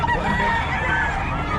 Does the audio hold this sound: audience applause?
no